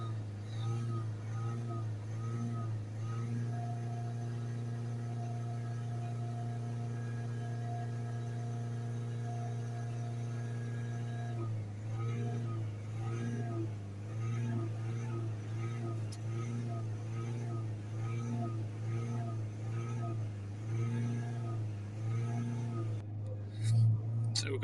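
Ford Mondeo 1.5 TDCi diesel engine idling steadily just after starting, a constant low throbbing hum close by, with someone talking over it.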